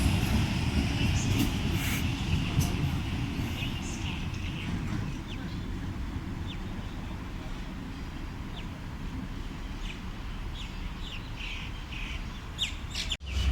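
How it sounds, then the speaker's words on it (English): Train departing platform 1 at Epping railway station during the afternoon peak, a steady low rumble and rolling noise that carries on throughout, with bird chirps and squawks over it. "I can actually film platform 1 trains depart as well"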